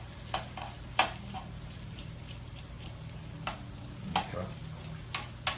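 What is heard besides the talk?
rearranging frying chicken in a pan with tongs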